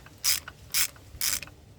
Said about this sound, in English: Using a 12mm socket I can get to 2 of the bolts on the casting.